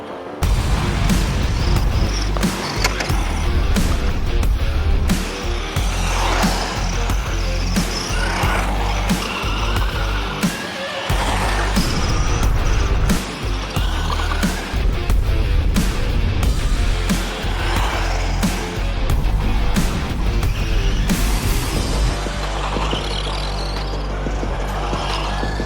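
Tamiya front-wheel-drive RC car lapping a track, a loud continuous motor whine with rising and falling pitch, tire scuffs and sharp knocks from bumps, steady throughout.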